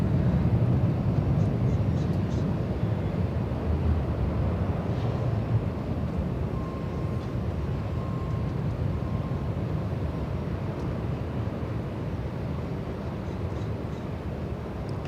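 A jet's reverse thrust after landing at Los Angeles International Airport rumbles from a distance as a broad, steady low roar that slowly eases, with wind noise on the microphone.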